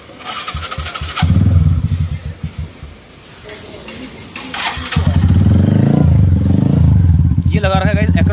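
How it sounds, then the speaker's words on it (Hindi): A Bajaj Platina 110 motorcycle fitted with a modified exhaust cranks and starts, then settles into a loud, close idle with throaty pulses and a brief blip of revs. "तो मैं करता हूँ स्टार्ट और सुनाता हूँ आपको एग्जॉस्ट का साउंड।"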